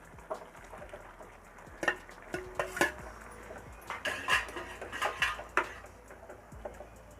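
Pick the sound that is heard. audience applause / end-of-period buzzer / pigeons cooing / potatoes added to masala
potatoes added to masala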